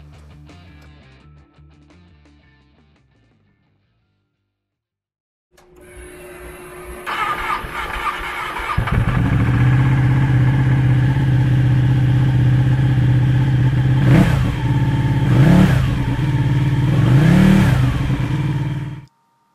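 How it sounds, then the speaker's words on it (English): A 2012 Ducati Panigale 1199 S with its 1199cc L-twin engine starts up close by, settles into a loud idle and then barks through three sharp revs before cutting off. "Powered by an 1199cc L-twin engine, the Panigale puts 195 horsepower and 98 foot-pounds of torque through a 6-speed transmission."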